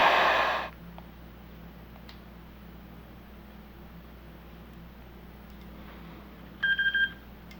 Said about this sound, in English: heard a beep. Means we got some connection